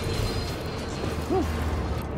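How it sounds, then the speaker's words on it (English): A train passing in the video game Dishonored 2 makes a steady, low mechanical rumble that stays even throughout, with a faint brief swell near the middle and no talking. "What is that? Oh, that's the train."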